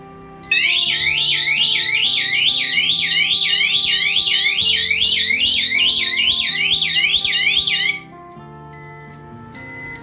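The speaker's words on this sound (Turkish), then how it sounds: "Alarm çalacak birazdan." A loud electronic alarm wails in rapid repeating sweeps for several seconds, ringing in an echoing room, then stops abruptly.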